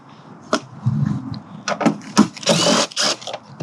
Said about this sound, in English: Easiest bit first, take these 3 bolts off at the top.